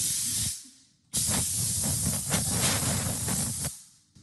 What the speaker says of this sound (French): même si c'est du bois, je peux tout à fait envoyer la vapeur pour enlever la poussière.